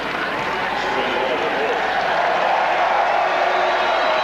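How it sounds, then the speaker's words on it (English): Auckland football supporters roar for the All Whites at a 1989 World Cup qualifier against Australia, a steady, dense stadium crowd noise with no breaks, loud and washing over everything. "the crowd support here today for the All Whites has been admirable"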